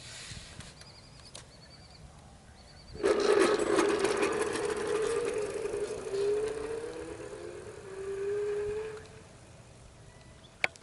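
Electric bicycle hub motor on an Ancheer e-bike accelerating on throttle alone, a rising whine that starts abruptly, climbs steadily in pitch over several seconds, then fades out near the end.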